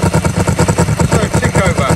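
A 2005 Kawasaki ER5 motorcycle with Klein carburetor diaphragms runs rough close by after switching on, its engine thumping in an uneven pulsing rhythm as if about to cut out.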